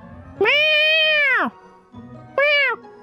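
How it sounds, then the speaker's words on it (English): Two drawn-out cat meows from Genshin Impact's Feline Fortress Furrdyssey event, a long whining call followed by a shorter one after a brief pause, clear and close over a faint background. "She's just immediately meowing."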